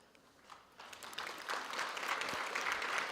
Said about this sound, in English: I'm sure you need to applaud yourselves.